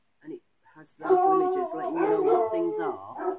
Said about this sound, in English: I do apologise for my dogs.